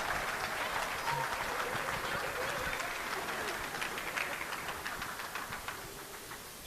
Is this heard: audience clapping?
yes